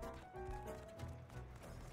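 Rhythmic clip-clop of horse hooves at a steady gait in the game Rust, mixed with game music and ambient sound, fairly quiet throughout.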